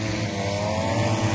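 A Chinese-made grass mowing machine drones steadily at close range while cutting grass in a field, a continuous buzzing engine hum with no pauses and no voices.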